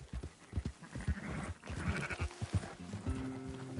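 Sheep bleating in Red Dead Redemption 2 while livestock is herded, several overlapping bleats and low animal calls in quick succession, close and fairly loud, with a sustained tonal cry near the end.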